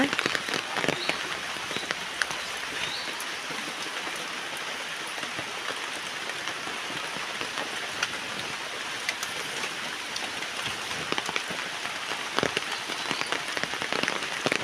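Rain falls in a forest, a steady soft patter of drops on leaves and ground with scattered sharper drips, fairly quiet and continuous.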